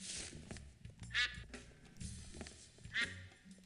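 A cartoonish duck quacks twice in the adventure game Escape from Monkey Island, short nasal calls about two seconds apart over game music and background sound.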